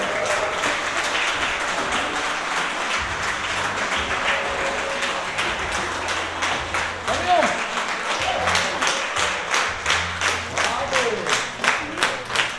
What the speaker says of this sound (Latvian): Uz sagaidām ar aplausiem!